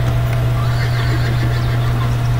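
A horse whinnies in a Wild West video game, a close, sustained neigh set over a steady low hum and dense background game noise.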